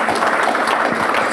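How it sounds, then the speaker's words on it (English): A room full of people gives a round of applause at a business council update event: a short, dense, even stretch of clapping. "Hello, round of applause."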